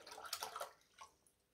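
Water is poured into a small desktop aquarium, a close splashing gurgle for about half a second that tapers off into a few fainter trickles.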